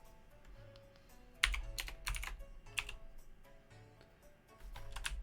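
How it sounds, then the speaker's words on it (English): Computer keyboard typing during a tabletop role-playing game session, with bursts of clustered keystrokes and pauses between, moderately close and fairly quiet, no voices. "I'm typing it correctly"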